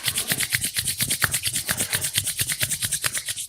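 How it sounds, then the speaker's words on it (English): Palms rubbed briskly together during a yoga session, a close, loud, rhythmic swishing friction that repeats several times a second for the whole stretch. "If you're seated, rub your palms together."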